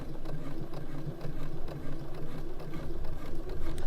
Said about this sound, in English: you just stitch in the ditch